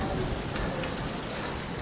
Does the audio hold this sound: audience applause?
no